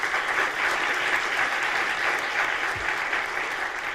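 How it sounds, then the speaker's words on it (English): An audience bursts into steady, moderately loud clapping that holds evenly for several seconds with no voices over it. "First applause on that."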